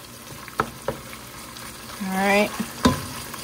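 Sausage sizzles quietly in a pan, with a few sharp clicks of a utensil and a short louder frying swell near the end, and a voice briefly speaks.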